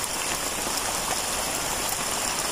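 Rain falls outdoors on a wet day, a dense steady hiss of drops hitting surfaces, close and even for the whole stretch with no voices.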